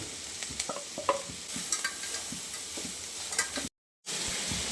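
Vegetables such as chopped beans, carrots and frozen green peas are stirred in a hot pan, with a steady sizzle and scraping spoon strokes close by and a brief dropout near the end.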